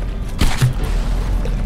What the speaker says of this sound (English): that turret just took another big hit